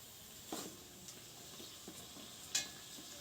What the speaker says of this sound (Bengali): তো এইভাবে উল্টে পাল্টে এটাকে একদম লাল লাল করে ভেজে নিতে হবে।